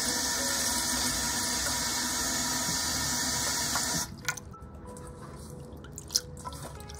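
Tap water runs steadily over freshly picked garden mint leaves in a sink, a continuous broadband hiss for about four seconds before the flow stops, leaving faint drips and small clinks.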